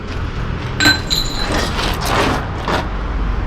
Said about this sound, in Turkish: cam sesini duymuyor musun?